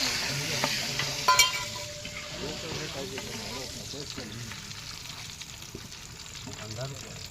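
Masala frying in a pan with steady sizzling and stirring, a brief metallic clatter early on, and a voice talking over the cooking throughout.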